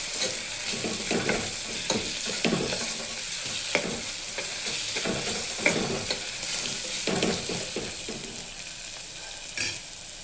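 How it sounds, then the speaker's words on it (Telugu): Onion frying with turmeric and ginger-garlic paste, giving a steady close sizzle broken by repeated scraping stirs of a spoon against the pan, with no talk. "ఇప్పుడు మనం పసుపు తీసుకుందాము. తర్వాత అల్లం వెల్లుల్లి పేస్ట్, ఇదంతా మనం ఒకసారి కలుపుకుందాం మంచిగా"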